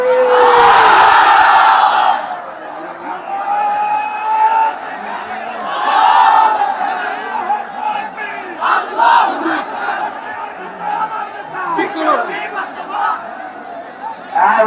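A large gathering at an Islamic sermon shouts the takbir, Allahu Akbar, in loud unison bursts, answered by repeated calls amid a preacher's amplified voice and echoing crowd responses.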